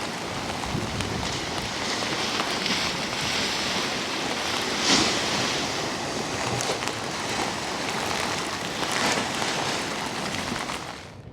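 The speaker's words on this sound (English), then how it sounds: "The waves seem to be getting bigger." Storm waves battering the seawall along Blackpool promenade in strong wind, a continuous loud roar of surf and spray with surges of crashing water, no voices.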